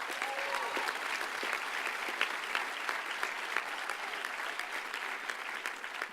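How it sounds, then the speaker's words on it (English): Graduation audience applauding, a dense, even wash of clapping from many hands that holds steady throughout, heard from within the hall. "So give them a round of applause for that."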